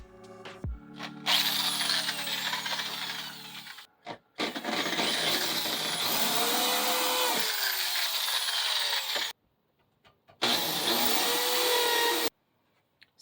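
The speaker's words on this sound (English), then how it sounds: "So I just drilled my holes" A power drill bores holes into a closet wall, running in long loud whirring bursts with short pauses between them, close by and with no talking.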